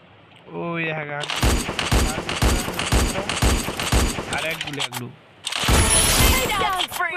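Free Fire mobile game gunfire comes in loud, rapid automatic bursts, pausing briefly before another sustained volley, with short stretches of voice between the shots.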